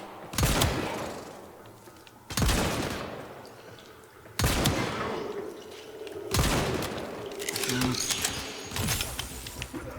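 Gunfire in the video game Warframe rings out as sharp, loud shots roughly every two seconds, each followed by a short decaying tail, over a low background hum.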